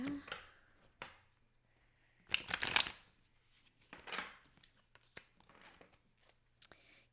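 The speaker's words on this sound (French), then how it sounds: "Je vais prendre mes cartes." Tarot-style reading cards are shuffled by hand in several short riffling bursts with soft paper rustles between them, close and fairly quiet, with no speech over them.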